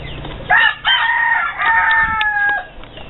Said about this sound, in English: I raised that rooster right there